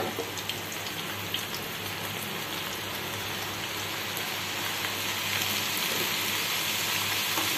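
Garlic sizzles steadily in hot oil in a pan for mango pickle, a dense, even crackle like rain that continues close up throughout, with no speech.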